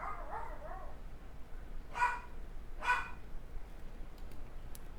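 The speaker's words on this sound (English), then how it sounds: "so there's a dog barking outside" A dog barks outdoors at a distance, two separate barks about a second apart, preceded by a few softer whiny yips and set against steady background hiss.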